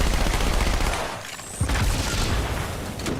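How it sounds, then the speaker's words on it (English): Rocket launcher fire in the video game Halo 2, loud booming blasts and rumbling gunfire-like bursts filling the moment, with a second heavy impact after a brief dip. "Rocket launcher definitely makes the same noise that it did in Halo 1 Anniversary"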